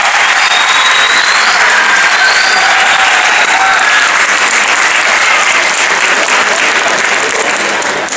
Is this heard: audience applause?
yes